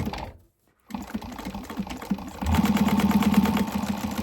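A sewing machine stitches a bag seam in short runs, with a brief silent gap near the start and then a longer, louder burst of rapid, even needle clatter close by.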